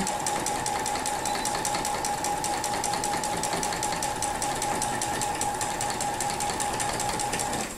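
A sewing machine runs steadily throughout during free motion quilting, its fast, even mechanical stitching rattle close and constant with no pauses and no talk.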